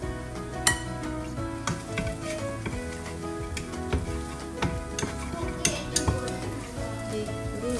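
Spam frying in a pan for fried rice, a steady close sizzle with clinks and scrapes of a utensil against the pan throughout, no talking.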